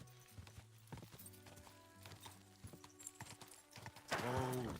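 Steady clip-clop of horse hooves trotting in the video game Kingdom Come: Deliverance II, followed by a loud, close whinny near the end.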